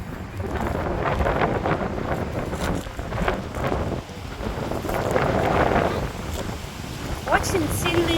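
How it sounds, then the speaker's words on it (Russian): Very strong wind buffeting the microphone outdoors in Kharkiv, a loud continuous roaring rumble with gusty surges, and a voice briefly audible over it. "Очень сильный ветер."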